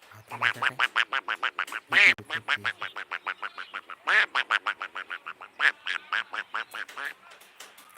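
Cartoon duck quacking from an animated graphic on a cricket broadcast, marking a batsman out for a golden duck: a loud, rapid run of nasal quacks in close, steady bursts that repeat for several seconds with no talk.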